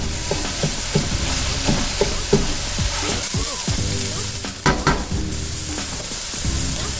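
Sausage meat, squeezed from its casings for a gluten- and dairy-free lasagna, sizzles steadily in a pan while a utensil breaks it up, with repeated scraping and clacking strokes over the continuous frying hiss; no one talks.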